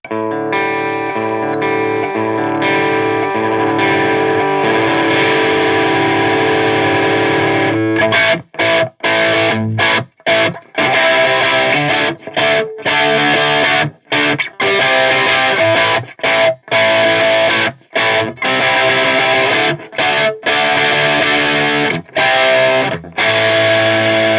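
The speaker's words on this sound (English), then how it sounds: "let's try cranking channel A, because I'm told that's an effective way to get those old vintage tones out of this amp." An electric guitar played through a mini amp head with channel A cranked gives a thick, distorted tone, first a long sustained chord, then a run of choppy, palm-muted riffs broken by sharp stops, loud and without talk.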